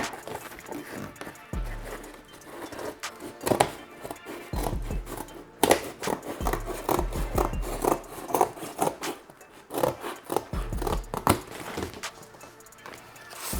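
Scissors snip through paper in repeated close cuts with rubbing and rustling between strokes, set in a small home studio under construction; no talking.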